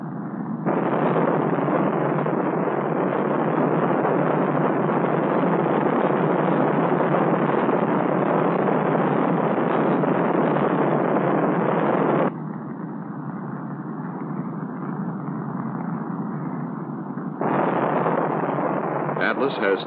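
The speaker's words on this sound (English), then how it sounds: "the Atlas launch vehicle ignites" An Atlas launch vehicle, with two booster engines and one sustainer engine, ignites at liftoff for a 1966 Gemini mission. It gives a sustained, loud roar that drops to a thinner rumble partway through before swelling again, and no one speaks over it.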